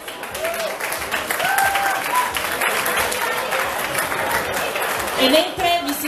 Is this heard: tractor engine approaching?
no